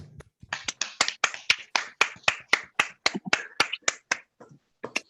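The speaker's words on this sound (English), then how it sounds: "give a big round of applause to our entrepreneurs for their amazing pitch practices" Participants on an online call applaud entrepreneurs after their pitch practices, a run of sharp, evenly spaced individual claps or snaps, close and crisp, with a short pause before a final pair.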